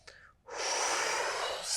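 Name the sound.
breathing in plank pose during yoga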